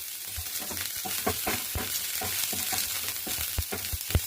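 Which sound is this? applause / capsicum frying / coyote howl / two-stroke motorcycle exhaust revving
capsicum frying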